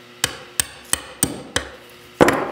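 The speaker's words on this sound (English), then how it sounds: "we're going to use our small pin punch and a hammer." Six sharp metallic taps of a hammer striking a small pin punch to drive out a pin from an airsoft nozzle, evenly spaced, close and crisp, with the last strike heavier.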